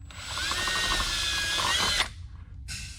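A power drill whines loudly and steadily for two seconds drilling through metal on a Ford F-150 3.5L EcoBoost, then stops briefly before starting again.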